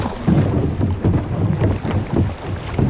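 A kayak drags over a shallow riverbed on the Black River in Gogebic County, giving a steady broadband scraping rumble with irregular bumps, close and continuous under outdoor wind noise.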